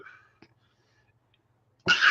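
A single sharp sneeze bursts out near the end after near silence, loud and close, following a faint breathy sound at the start.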